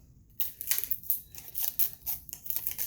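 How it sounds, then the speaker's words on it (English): Adhesive tape is peeled off a shirt being decorated with a rhinestone template, heard as a series of close, quiet rasping tears and crinkles in short uneven pulls after a silent start. "can I get this tape off?"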